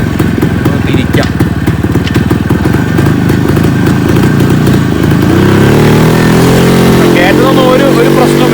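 A Yezdi Classic 250 motorcycle engine runs loud and steady while riding uphill, with a continuous close-up throb whose pitch shifts partway through as the revs change.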